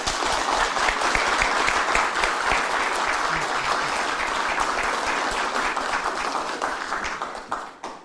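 Dense, loud applause from a crowd at a Korean presidential campaign committee rally in Gwangju, steady for several seconds before thinning out at the end.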